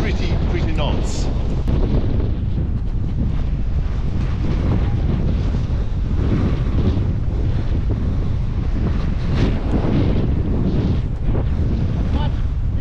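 Strong gusty wind roars across the microphone at Boundary Bay during a freezing-rain kiteboarding session, a loud, continuous buffeting that hardly lets up, with surf beneath it.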